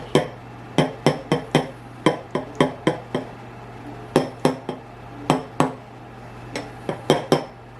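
A knife pokes vent holes in the top crust of a homemade cherry pie, producing sharp, close clinks against the dish in quick clusters of two to four taps separated by brief pauses, over a low steady hum.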